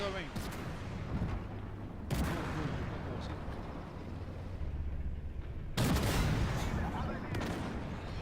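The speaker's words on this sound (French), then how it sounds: "J'adore tirer en mouvement. Avec le T72" A T-72 tank fires its main gun while moving in the Armored Warfare video game. Two heavy booming cannon shots, several seconds apart, ring out over a constant rumbling engine drone.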